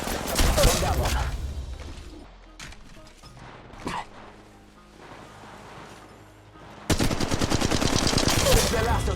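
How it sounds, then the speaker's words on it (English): Automatic gunfire in Apex Legends Mobile, a loud rapid burst at the start, a quieter stretch with scattered shots and game effects, then another long rapid volley at the end. "Opening fire on the enemy."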